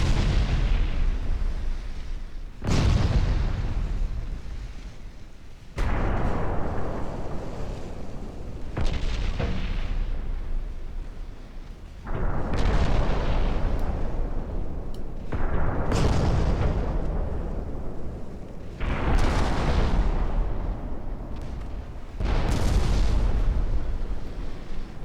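Heavy naval gunfire from 6-inch guns on a warship in a Japanese dreadnought campaign game, with about eight loud booming salvos spaced every few seconds, each trailing off in a long rumbling decay.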